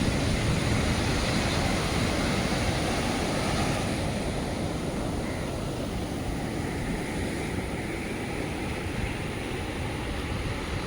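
Ocean waves wash steadily onto RK Beach on a morning walk, a continuous close roar of surf with some wind noise and no talking.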